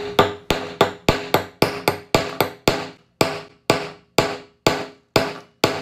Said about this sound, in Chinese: 那我们接下来就用钳子砸。